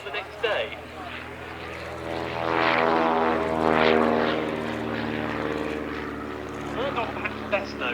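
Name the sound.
US Army L-19 observation propeller aircraft flying at air display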